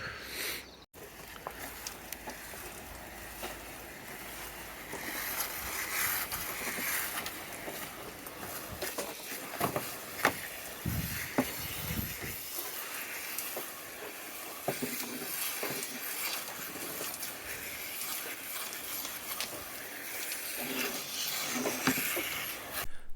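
A sprayer applies biocide across a property after pressure washing, giving a long, steady hiss with intermittent spattering bursts, fairly close, and no voices.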